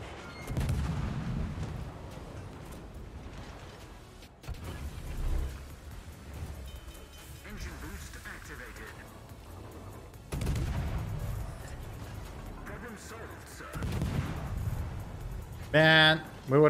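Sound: naval gunfire in World of Warships video game

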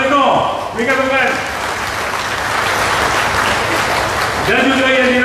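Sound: audience applause at a rally

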